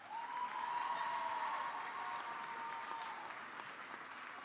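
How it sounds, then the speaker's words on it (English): A high school graduation audience claps for student athletes, a steady wash of applause from a large crowd that swells early and then slowly thins. "another round of applause"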